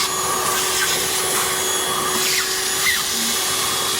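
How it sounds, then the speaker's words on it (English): A Hoover vacuum cleaner runs continuously at close range, a loud steady whine and rush while it cleans up a mess at home, with no talking over it. "Get the hoover on it, Neil."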